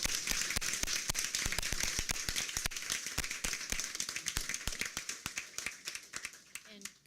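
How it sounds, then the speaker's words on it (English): Scattered applause at a school district board meeting, individual claps distinct and fairly faint, thinning out toward the end. "let's give them all a round of applause"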